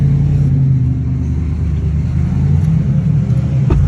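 A car engine idles with a deep, steady exhaust rumble, loud and close, holding a constant throb throughout.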